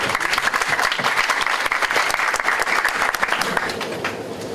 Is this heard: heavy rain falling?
no